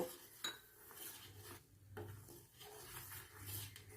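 A spoon scrapes and clinks against a cooking pot while rice flour is stirred into boiling rice, soft irregular metallic rubs and taps close by, with no talking.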